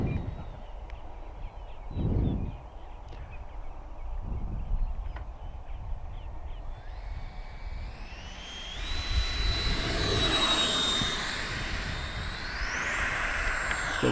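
An XFLY Sirius 80mm RC electric ducted-fan jet makes a slow pass. Its whooshing whine rises from a distant hiss to a louder, near roar as it flies by, with wind buffeting at the start.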